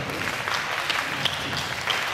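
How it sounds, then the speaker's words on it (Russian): An audience at a step aerobics master class during a fitness convention applauds in a dense, continuous patter, moderately distant and even throughout. "Давайте похлопаем все дружно"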